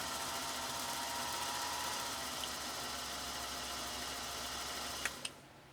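A Singer 222K sewing machine runs freely with no load, as when winding a bobbin. Its small motor gives a steady, close, high whir that flutters slightly, then ends with a couple of sharp mechanical clicks.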